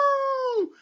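A human voice mimics a dog's bark or howl, one sustained tonal yelp held steady before sliding downward and breaking off, loud and close with no other sound.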